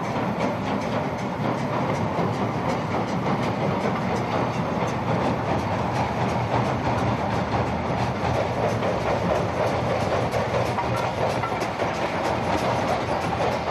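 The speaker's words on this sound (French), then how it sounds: "Aujourd'hui, il y a ce train à vapeur qui passe." A steam train passes near Yamaguchi in western Japan, a steady, loud rumble of wheels and rolling stock that holds at an even level for the whole stretch, with no voices over it.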